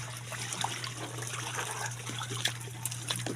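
A stream flows past at a quiet, steady level, with soft trickling and small splashes over a constant low hum, and no one speaks.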